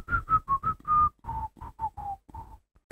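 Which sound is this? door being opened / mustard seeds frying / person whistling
person whistling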